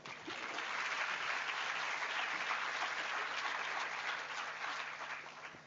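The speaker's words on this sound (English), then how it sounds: "please join me in extending a warm round of applause to welcome our esteemed guest, Mr. Trilok Chand Jaiswal" A conference audience gives a steady, even round of applause to welcome a guest, with moderate loudness that holds for several seconds before tapering slightly.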